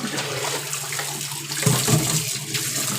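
Tap water running steadily while a large basket is washed, a close continuous splashing gush with a heavier thud of water around the middle, no voices.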